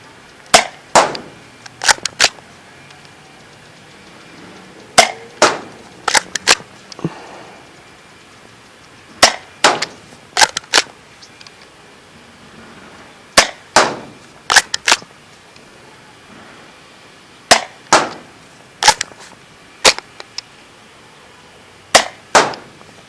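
A Dart Zone Pro MKII toy foam blaster fires bamboo darts in a sharp, loud series of snapping pops, single and paired shots spaced out in quick rhythmic runs with brief pauses.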